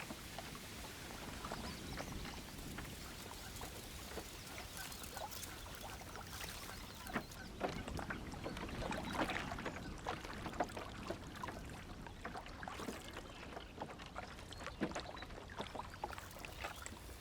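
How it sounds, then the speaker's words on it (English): A canoe drifts slowly along a reed bed on a calm, windless day, with soft, faint water lapping and light patters against the hull and no voices. "Carefully, I float my canoe along the reed bed"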